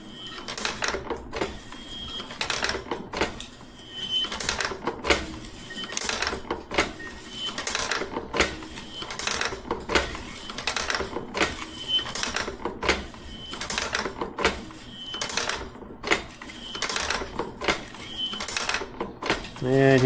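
A heavy-duty sawmill blade sharpener and dual tooth setter runs on its first test, producing a steady stream of rapid, evenly spaced mechanical clacks and ticks, loud and close, repeating throughout.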